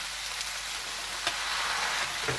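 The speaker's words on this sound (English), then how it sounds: "Now you just cook and stir that until that sauce thickens up a little bit." A pork, mushroom and cabbage stir fry sizzles steadily in a pan with its sauce, a dense hiss close by. Occasional stirring clinks break it, and no one speaks.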